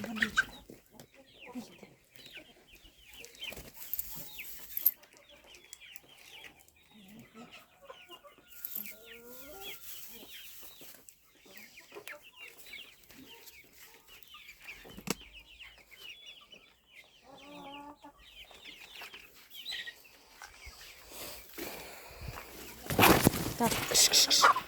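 Several chickens cluck and murmur nearby in an ongoing chorus, with someone talking at times and some rustling and clatter toward the end.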